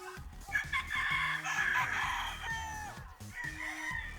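Gray brood stags in a breeding yard crow and cluck, several overlapping calls at moderate distance with a low background hum.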